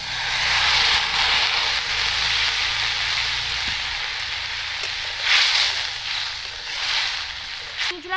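Water poured into a hot pan of sautéed spiced eggplant, bursting into a loud, close hiss and sizzle that slowly settles, with a few stirring scrapes.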